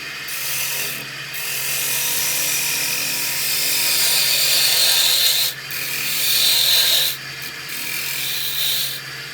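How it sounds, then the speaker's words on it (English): A gouge shears wood on a lathe while turning a chip and dip platter, giving a steady loud scraping rasp that runs continuously, with a few brief dips where the tool lifts off the spinning wood. "Maybe I'll take just one more cut here to get rid of this little extra wood."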